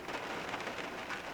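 Steady rain storm in Los Angeles, a dense continuous hiss of rain falling on surfaces, fairly close and even in loudness, with no voices.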